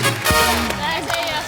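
Studio audience applause on a Hindi comedy talk show, a brief burst of clapping and cheers mixed with a voice talking over it.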